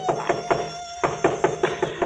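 Knocking on a door in a 1940s mystery-horror radio drama: a run of quick, evenly spaced raps, a brief pause, then another burst of brisk knocks, close and clear.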